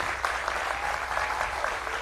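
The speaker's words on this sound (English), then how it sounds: "Let's give them a round of applause for this first round" An audience at a 2024 congressional candidate forum gives a round of applause to the candidates, a dense, sustained clapping wash of many hands at fairly even loudness, heard alone without talk.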